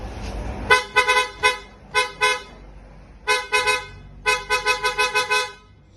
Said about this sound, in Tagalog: So, check natin mga bossing yung tunog ng horn natin.